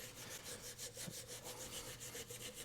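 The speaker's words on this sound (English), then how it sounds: "part of our problem is right here, so let's see if we can scrape this off" A Honda SL125 engine part being scraped clean of gunk, giving a steady rasping scrape in regular back-and-forth strokes, close and fairly quiet, with no voices.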